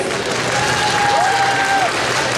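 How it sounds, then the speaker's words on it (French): An audience at a science-fiction convention's cosplay contest applauds the jury: a dense, continuous wash of clapping from a large crowd, loud and unbroken, with a thin whistle rising faintly above it. "Un petit applaudissement encore pour le jury, s'il vous plaît"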